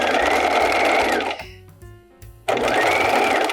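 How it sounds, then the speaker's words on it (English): A sewing machine stitches dress seams, running loud and close in a steady whirring burst, pausing briefly with a few softer mechanical sounds, then starting up again. "just pull slightly as you're stitching"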